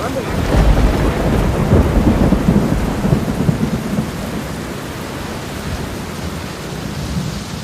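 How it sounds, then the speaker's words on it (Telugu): Heavy rain pours steadily while deep thunder rumbles close by in the opening seconds, then eases into a continuous downpour. "మళ్ళీ వర్షం కొట్టట్టున్నది"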